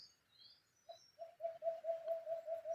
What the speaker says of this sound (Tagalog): merong sunsun na humuhuni.